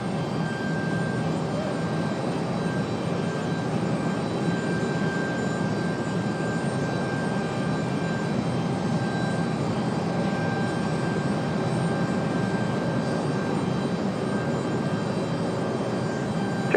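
A UPS jet aircraft drones steadily at Raleigh-Durham International Airport, a continuous broad engine rumble with a faint steady tone, fairly loud and unbroken throughout.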